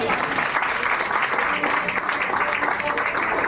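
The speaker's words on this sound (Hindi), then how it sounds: "जबरदस्त ताली।" A meeting audience claps loudly and continuously in a brief burst of dense applause, with voices mixed into it.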